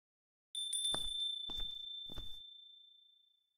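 A phone notification chime rings out, a sustained bright ding tone with three short rattling buzzes underneath it, then a slow fade into quiet, faint and alone.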